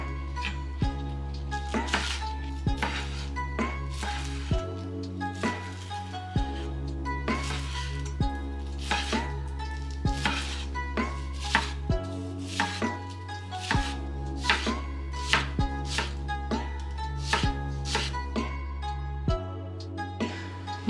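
Knife chops through green onions for a garnish, a steady run of crisp, regular strikes on a cutting board, close and distinct over continuous background music.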